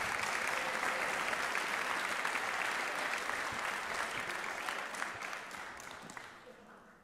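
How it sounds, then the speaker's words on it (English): Sustained applause from a large crowd at a school sports awards event honoring fall MVPs, dense and steady throughout before gradually thinning and fading toward the end. "How about another round of applause for your fall MVPs?"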